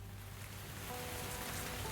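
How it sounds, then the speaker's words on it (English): Steady rain hissing across a surface in the video game Tavern Talk, a soft continuous wash with a low hum beneath, no voices. "Oh, it's raining."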